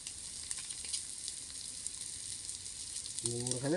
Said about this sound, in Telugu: నూనె పొంగుతుంది.